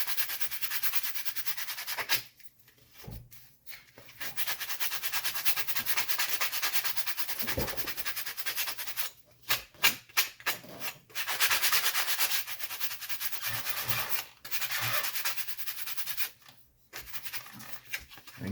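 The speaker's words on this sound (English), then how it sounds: "take some sandpaper, real nice, coarse" Coarse sandpaper is rubbed over material being shaped into model railroad coal loads. The scratchy sanding strokes are close and steady, broken by a few short pauses.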